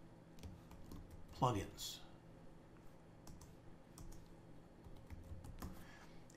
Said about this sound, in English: let's type in jQuery